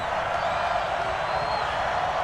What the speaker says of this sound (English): the crowd getting into it as we come up on a big